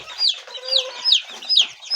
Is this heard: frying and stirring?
no